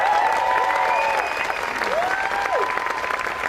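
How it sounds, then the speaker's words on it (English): Crowd applause for New Mexico Governor Michelle Lujan Grisham at a rally in Belen, steady dense clapping throughout, with whistle-like tones and a voice rising faintly over the applause. "How about another round of applause for our Governor,"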